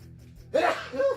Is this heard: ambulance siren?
no